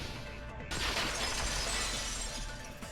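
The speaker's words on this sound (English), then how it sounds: "the girls heard the sound of the window shattering" A window shatters with a sudden loud burst of breaking glass in Danganronpa 2, followed by a bright crashing spray of shards that lingers and fades over a couple of seconds.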